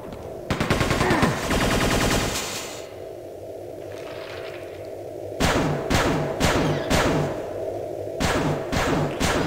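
Shotgun blasts in Quake 2 over a busy game soundscape: a dense flurry of rapid shots at first, then a lull, then several heavy separate booms, loud and up front.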